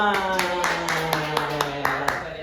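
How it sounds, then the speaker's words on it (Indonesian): Students in a classroom clap together in a brief round of applause, sharp rhythmic claps over a sustained voice. "Sebenarnya tepuk tangan dulu buat kita semua"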